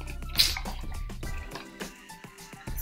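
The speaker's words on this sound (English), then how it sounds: "Dripping my paint" A few soft, scattered drips of paint from a brush patter close by in a quiet room, with faint handling noises around them.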